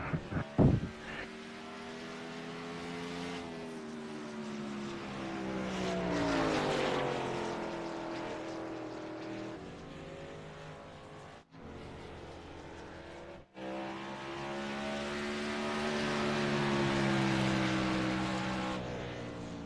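A race car rolls through flat turns, its engine droning and rising and falling in pitch as it passes, loud and close, with brief dropouts and no talk.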